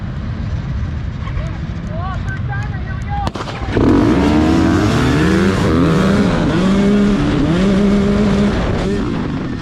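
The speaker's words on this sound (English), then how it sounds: "Jackson Bennett jumping out to the hole shot here." Dirt bikes launch off the start line of a hare scramble race: after a quieter opening, engines burst in loudly just before the four-second mark and keep revving and climbing as several bikes pull away close by.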